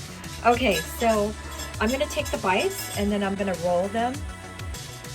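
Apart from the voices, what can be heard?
dog eating from a bowl, clinking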